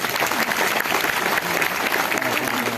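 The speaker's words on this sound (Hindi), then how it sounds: "तो एक बार ये फिगर के लिए भी जोरदार ताली दी जाए।" A training-session audience at an Indiagro products event breaks into loud, dense applause, a continuous close wash of many hands clapping together for a few seconds.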